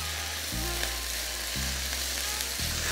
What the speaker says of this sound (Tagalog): Ginigisa ko lang itong sibuyas hanggang sa lumambot na.